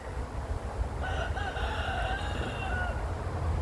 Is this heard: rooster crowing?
yes